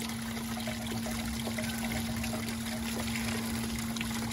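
Steady rushing water pours and trickles continuously down a sluice, with a constant low mechanical hum underneath; no voices.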